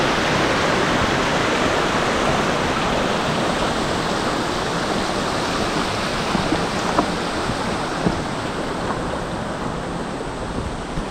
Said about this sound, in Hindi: और यहाँ पे आ गई है एक और वाटरफॉल जिसको हमें क्रॉस करना रहेगा यहाँ पे।